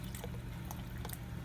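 Water is poured faintly and briefly over nuts sitting in a Ninja blender, a soft trickling splash with no voices.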